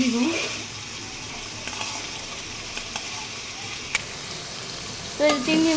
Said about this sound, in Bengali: চিংড়ি মাছ ভেজে বসাই দিতেছি